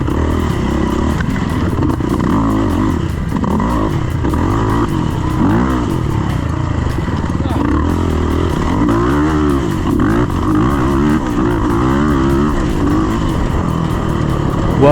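A Yamaha YZF 450 dirt bike pulls away in a race, its single-cylinder engine revving loudly and steadily up and down through the gears, close and continuous with no talking.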